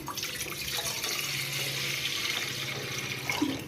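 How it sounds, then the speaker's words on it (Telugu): Water pours steadily into a cooking pot in a kitchen, a continuous close splashing rush lasting several seconds with no talk. "వాటర్ పోసేసుకుందాం."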